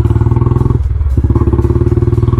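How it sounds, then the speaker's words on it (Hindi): A Royal Enfield Bullet 350 idling through a Punjabi silencer exhaust, a loud, deep, evenly pulsing thump close by, with a brief dip in the rhythm midway and no talking. "पंजाबी साइलेंसर का सबको साउंड पता ही होगा वैसे भी"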